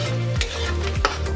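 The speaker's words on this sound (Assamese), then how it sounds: "এতিয়া ইয়াতে দিম চাউলখিনিও এনেকৈ ভাজিব লাগিব অলপ সময়।" Rice frying in a pan for vegetable pulao gives a steady close sizzle, with two brief scraping stirs cutting through the hiss; no voices.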